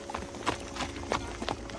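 Galloping horses' hooves clop in an uneven, quick rhythm, fairly faint and a little distant, with no voices over them.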